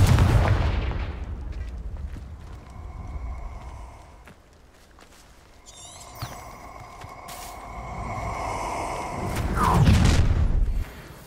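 Confringo fire spell explosions in the video game Hogwarts Legacy, heavy booming blasts with crackling impacts, one burst at the start and a bigger one near the end, with combat clatter between.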